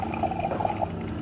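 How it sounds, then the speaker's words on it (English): Water pours from a DC Life Pro Max hydrogen alkaline water machine into a container as a short, close, steady liquid stream with a bubbly, gurgling texture, and nobody speaks. "pour out our water from DC Life Pro Max, instant production"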